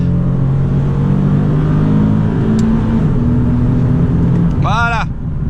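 Automatic car accelerating hard on the open road with its engine droning loudly and steadily up close, while a person talks over it inside the cabin.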